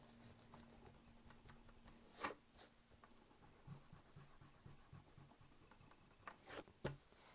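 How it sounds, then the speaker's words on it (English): A pencil drawing of a snake is erased: quiet, rhythmic scrubbing strokes of an eraser on paper, with a few sharper scratchy bursts, close and faint with no talking. "I am going to erase."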